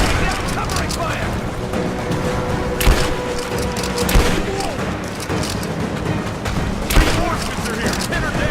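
Gunfire rattles through a firefight in the Tomb Raider video game, dense and loud with a few heavier booming impacts, while voices shout amid the shooting.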